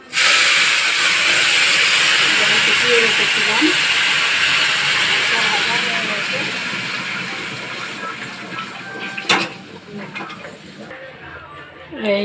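Water poured into a pot of fried rice sets off a loud, steady hiss of steam that slowly fades, with a few brief clinks near the end.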